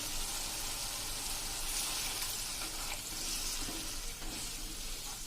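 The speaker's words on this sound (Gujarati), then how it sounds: "હવે આમાં આપણે 1 ગ્લાસ જેવું એટલે કે 1 કપ જેવું પાણી નાખી દેશું" About a cup of water is poured into a hot pan of whole garlic curry, producing a loud, steady hiss and sizzle with watery splashing, close and continuous throughout, no talk.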